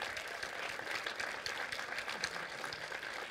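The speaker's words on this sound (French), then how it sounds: "Vous pouvez même applaudir encore plus fort" An audience at the closing and awards night of a film festival applauds, with steady, moderately loud clapping from many hands continuing throughout.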